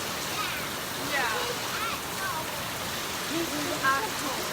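A steady hiss of heavy downpour in Ghana fills the air close by, broken by faint speech in the background.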